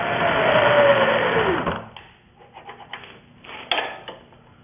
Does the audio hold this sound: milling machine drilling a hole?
yes